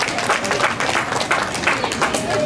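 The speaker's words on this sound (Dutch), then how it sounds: "Geeft u deze dames even een hartelijk applaus." Steady applause from a crowd at a running event in Veendam, sustained clapping throughout with a voice faintly underneath.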